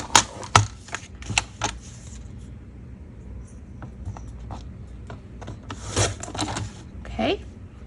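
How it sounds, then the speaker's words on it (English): Scissors or a blade cut a paper flap on a handmade mini notebook, producing soft close crisp snips and rustles interspersed with quiet handling noises. "So I'm going to cut about 1/4 of an inch off this flap here."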